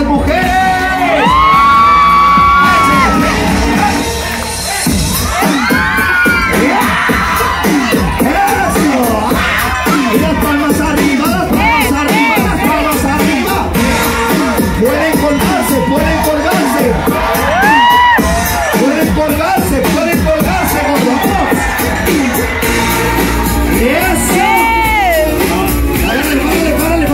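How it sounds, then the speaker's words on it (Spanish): A large festive crowd at a lively party game shouts and cheers, with women's high screams and whoops rising above constant loud crowd noise and music. "el grito de las mujeres."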